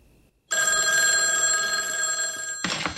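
Telephone ringing in a 1989 film scene: a steady electronic bell tone starts abruptly after a short quiet moment and rings loudly and continuously, then a brief burst of broader noise near the end.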